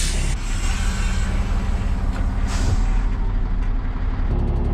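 Air brake hiss and release from an articulated dump truck as the handbrake is applied in neutral after stopping on a slope, heard over a steady low engine rumble, close and fairly loud, with a sharp burst of air near the start.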